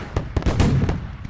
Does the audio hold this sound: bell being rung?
no